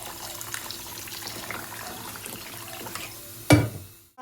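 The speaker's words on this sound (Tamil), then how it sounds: "இப்போ நல்ல தண்ணி ஊற்றி நம்ம ஊற விட்டுறலாம்." Water runs steadily from a tap into a container of rice for soaking, then a louder splashing pour near the end, close and without talking.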